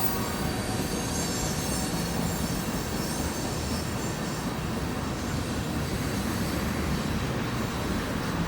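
Northbound CSX ethanol freight train led by Canadian Pacific locomotives rolling past at Paintsville, a continuous loud rumble of wheels on rail with squealing and rhythmic clatter from the cars.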